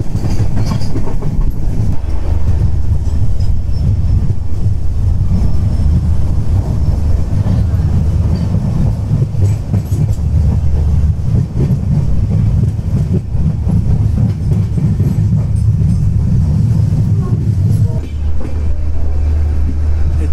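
A tourist special train with a Vistadome coach runs on rails, a loud, continuous low rumble with rattling wheel noise and wind, heard from inside the moving train.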